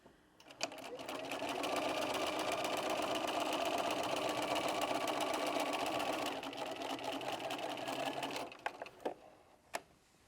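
A sewing machine stitching a fabric seam just over a quarter inch wide runs in one long, steady mechanical whir for several seconds. A few clicks come before it starts and after it stops.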